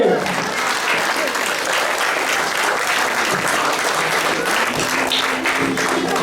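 A live audience at an Indian stage drama performance applauds loudly and steadily for the whole stretch. The dense, even clapping of the crowd is near and continuous.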